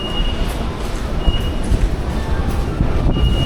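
A metro train in Japan rumbles and rattles along the track, loud and close, with a steady rolling roar and faint squeals and clicks from the wheels.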